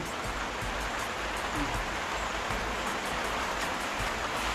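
Steady heavy rain in the Philippines hisses in a dense, continuous wash, fairly loud and unchanging, with no clear voices over it.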